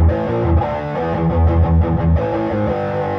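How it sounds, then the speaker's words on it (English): Guitar played through the distortion effect of the Speakerphone 2 plugin, a thick, saturated, sustained chord texture with rhythmic chugging, loud and close with no talk. "Let me give you a little bit of our distortion."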